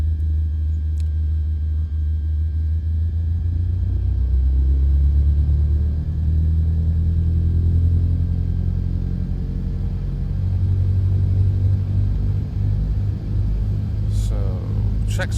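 A Cessna 152 Aerobat engine holding at run-up in Microsoft Flight Simulator, a loud, steady low propeller drone that rises and dips slightly, with brief tonal sweeps near the end.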